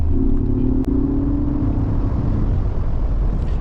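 A loud, steady vehicle roar with deep low rumble holds throughout, close and continuous, as a Mercedes G580 electric G-Class SUV accelerates hard.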